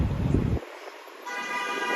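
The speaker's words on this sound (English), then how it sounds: "he's getting a horn honked because he wants me to run me over" A car horn on a Brooklyn street gives a short honk that cuts off abruptly. Steady traffic noise and wind follow it.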